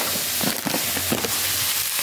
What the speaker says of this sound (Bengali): সবজিগুলো একটা ভাজা ভাজা হয়ে গেছে